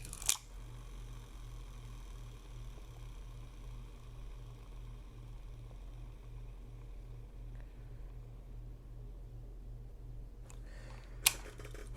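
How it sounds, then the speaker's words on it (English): Turning the handle of a Calcutta 200B fishing reel gives a faint, steady, evenly pulsing whir that runs without pause. A sharp click or two stands out at the start and near the end, with no talk. "I just kind of turn the handle a few times, several times actually."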